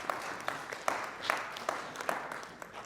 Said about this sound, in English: So a round of applause for you, please